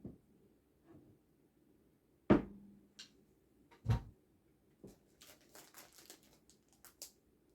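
A boxed limited edition Ren Legacy lightsaber set is handled as its box doors are opened and a variant comic book is slid out, giving a few sharp cardboard knocks and soft papery rustles, close and quiet with pauses between.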